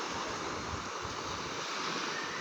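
Tsunami waves surge as the sea rushes back in at Barangay Laker on Sarangani Island in the Philippines, a steady, dense roar of churning water with wind noise, continuous and loud throughout with no voices.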